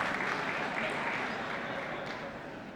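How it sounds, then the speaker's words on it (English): Applause breaks out in the chamber of Congress during a State of the Union address, a steady wash of clapping at moderate distance that fades slightly toward the end. "we had one member of Congress stand up and applaud"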